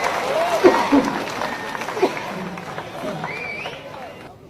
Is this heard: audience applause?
yes